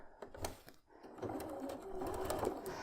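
Sewing machine stitching a big quilt block, running steadily for a couple of seconds after a brief stop-start at the beginning, close and moderately loud.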